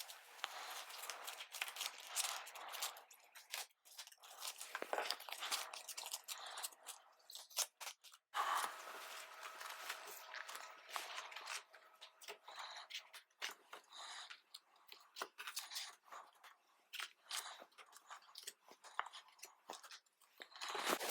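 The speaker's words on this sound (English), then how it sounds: "Shuffling all the rest of the prompts." Paper prompt cards for a reading-list game being shuffled up close, a dense run of soft rustling, flicking and crisp snaps that comes and goes, with faint talk at moments.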